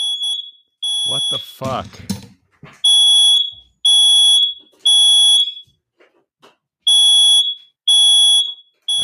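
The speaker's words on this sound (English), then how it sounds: "I think Mira just set off the smoke alarm in her house because she was smoking a joint." A household smoke alarm goes off, sounding loud repeated piercing beeps in a steady on-off rhythm, with a startled exclamation and other voices breaking in near the start.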